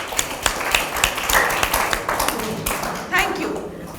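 A classroom group claps for students who have just acted out a role-play, with scattered, uneven claps spread across the clip and a voice heard over part of it.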